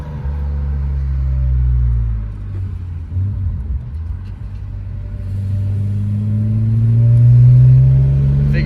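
A BMW E46 M3 engine with an SMG gearbox rumbles and revs, its deep drone rising and falling through gear changes, loud and steady throughout.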